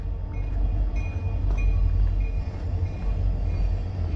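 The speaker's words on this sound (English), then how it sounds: "Here goes the train." A Santa Fe freight train passes behind a row of houses, giving a steady, heavy low rumble with clanking wheels and faint squealing. It stays continuous and moderately distant, and no one speaks over it.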